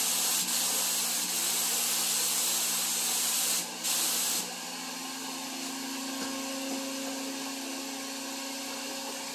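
Spray gun laying a full wet coat of finish onto a repaired MDF door, a steady close hiss running throughout with a brief dip partway before the spraying carries on evenly.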